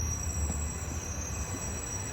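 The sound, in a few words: train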